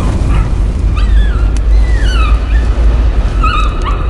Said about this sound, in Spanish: ¿Un perro? ¿Son un perro?